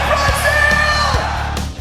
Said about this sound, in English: Scream for me, Brazil!